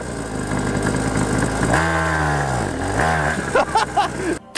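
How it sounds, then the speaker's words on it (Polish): A homemade go-kart engine is pushed to full throttle, a loud rasping drone that rises and falls in pitch through two sweeping revs before cutting out abruptly, with short bursts of sound at the end. "Cicho, dam od razu gaz do dechy, uwaga."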